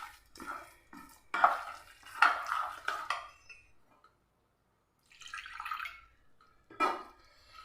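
Rice flour batter mixed with water being stirred in a bowl, a few bursts of wet scraping and sloshing with pauses of near silence between them, close and fairly quiet.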